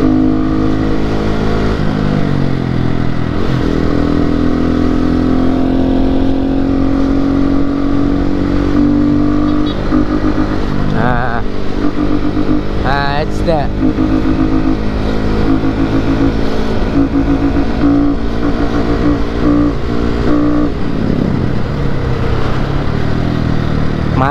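Upgraded motorcycle engine with new aftermarket parts, revving steadily and loudly up close, with rising and falling pitch over a continuous drone and a few sharper throttle blips, no speech.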